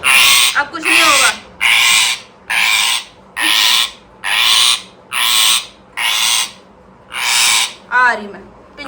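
Two pet parrots named Tara and Sara fighting, harsh loud squawks in about nine evenly spaced bursts, each roughly half a second long, very close with short gaps of quiet between.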